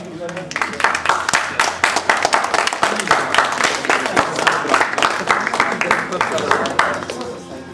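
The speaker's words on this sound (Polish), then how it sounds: "I wielkie brawa, wielkie brawa." Applause at a League of Legends LAN tournament award ceremony, a steady roomful of dense clapping lasting several seconds, loud and close with a voice heard speaking over it.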